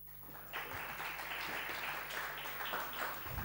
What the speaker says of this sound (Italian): Applausi per la domanda che era abbastanza, mi sembra, molto intelligente e pertinente